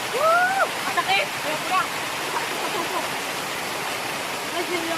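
Strong rushing water of Katapang Falls, a waterfall in Pagbilao, Quezon, roars steadily and close throughout, while a voice exclaims and speaks briefly near the start.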